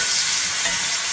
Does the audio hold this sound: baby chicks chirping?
no